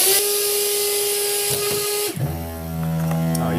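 A Vaquform P6 vacuum forming machine kicks in with a loud steady whine that drops and shifts to a deeper, harmonic-rich drone as the vacuum activates, heard up close with no voices.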